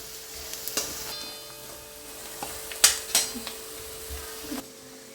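Spices tempered in a little ghee for chole, with a soft, steady sizzle and scattered clinks of stirring, a few sharper scrapes near the middle, quiet and close with no talking.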